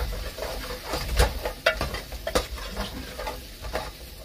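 Ground coriander and cumin powders stir-fry in a pan for a potato tomato curry, giving a soft sizzle broken by several sharp spoon scrapes and taps close by, with no talking.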